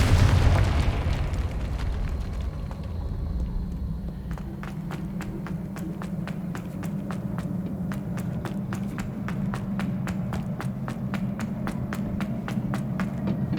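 A Confringo spell goes off in Hogwarts Legacy with a loud, booming burst right at the start. It fades into a rumble, followed by a long run of steady, evenly spaced footstep-like taps.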